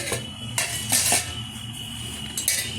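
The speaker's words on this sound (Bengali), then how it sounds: "এদিকে দশ মিনিট বাদে ঢাকনাটা তুলে দিচ্ছি" A metal lid comes off a pot of cooking khushka pulao with several close clinks and scrapes of metal against metal, then steam hiss, with no talk.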